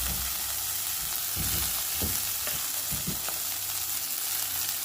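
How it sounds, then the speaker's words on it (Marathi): Chopped chickpea greens sautéing with garlic in a pan give a steady, even sizzle throughout, with a few soft stirring scrapes near the middle. "त्यासोबत आता आपण हा चिरून घेतलेला पाला आहे तो परतून घेऊया"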